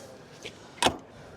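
A storage compartment door on a 2026 Newmar Summit Aire Super C motorhome is opened: a faint click, then a single sharp latch thunk close by, otherwise quiet.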